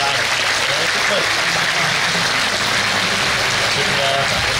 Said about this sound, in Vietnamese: Chúng cho một tràng pháo tay thật lớn và thật dài để chúc mừng.